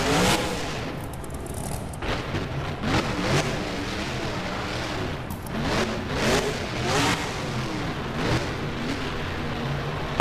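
In the BeamNG video game, the Grave Digger monster truck engine revs loudly in repeated surging bursts as it drives around a stadium freestyle arena.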